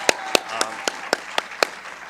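A handful of distinct hand claps, about seven evenly spaced sharp slaps, at a leadership awards ceremony, close and clear over a quiet room with a faint murmur.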